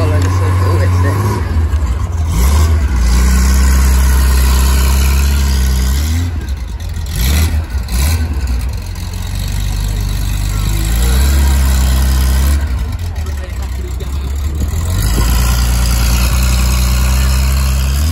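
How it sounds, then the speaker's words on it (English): A car engine revs and idles at a classic and performance car show, with steady low rumble throughout and occasional swells as the throttle opens, while people talk nearby. "I hear revving, so let's follow the circle."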